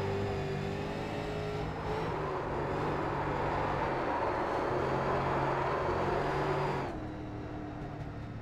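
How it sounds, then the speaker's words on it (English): A Street Stock race car at Lanier in the iRacing sim hums with a steady engine drone while thin tyre squeal rides on top, holding level for several seconds before easing off near the end. "The tyre sounds are also quite good."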